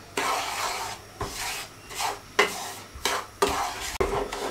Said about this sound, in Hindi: सबसे पहले हम सूजी को रोस्ट करेंगे।